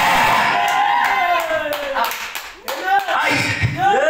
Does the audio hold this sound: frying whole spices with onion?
no